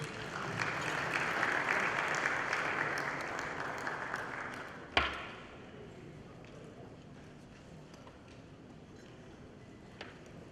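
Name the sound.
audience applause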